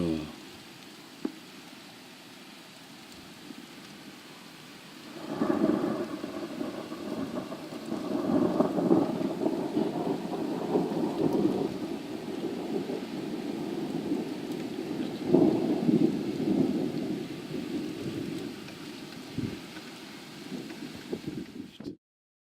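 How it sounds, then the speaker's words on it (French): Rolling thunder rumbles through a snow thunderstorm in France, a long low roar that swells and fades over about twenty seconds, with a steady hiss of precipitation underneath and no talking. "C'est vraiment un orage de neige"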